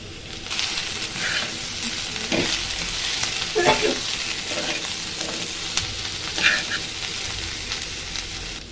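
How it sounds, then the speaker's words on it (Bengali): Vegetables frying in a pan with turmeric, chili, cumin and salt, a loud continuous sizzle with hiss, scraped and stirred at intervals by a spoon, heard up close without speech. "একটু ভেজে নিয়েছি সবজিগুলা"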